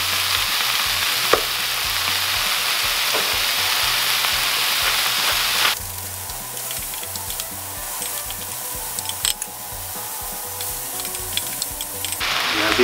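Venison shanks seasoned with salt and pepper sizzle and fry in an Instant Pot, a loud steady crackle that drops to a softer, bubbling sizzle with occasional pops, close up.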